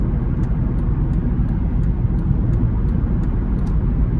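A 2007 Honda Civic LX drives down the road, heard from inside the cabin as a loud, steady low rumble of engine and road noise, with faint regular ticks over it.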